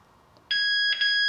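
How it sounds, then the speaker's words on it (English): A Sargent caravan alarm key fob sounds a loud, piercing electronic chirp, one steady tone with a brief dip partway before it resumes. "you press and hold the second button down and you get 3 chirps"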